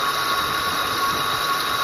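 A 2007 Ford Explorer XLT V8 runs in its engine compartment with a loud, continuous, steady whine over an engine hum, heard up close and alone, with a worn pulley suspected.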